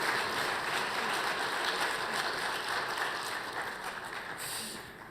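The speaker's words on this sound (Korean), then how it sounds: "귀한 찬양으로 섬겨주신 찬양대를 위해서 우리 함께 다시 한번 감사의 박수를 올려드리겠습니다." A church congregation applauds the choir after a hymn, a steady, dense wash of clapping filling the hall at an even level throughout, easing off slightly toward the end.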